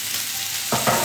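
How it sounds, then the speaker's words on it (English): Butter with capers and a squeeze of lemon sizzling in a pan, a steady crackling fry that grows a little louder near the end, with no voices. "we just put a little bit of butter in the pan. And we're going to put capers and a squeeze of lemon"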